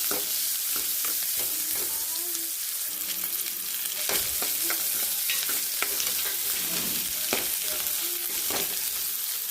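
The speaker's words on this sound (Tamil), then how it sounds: "வெங்காயம் போட்டுக்கலாம் நல்லா வதக்கிடலாம்" Onions, crushed garlic and salt fry in a pan with a constant loud sizzle. Repeated scraping stirs of a spatula cut in close by, and no one talks.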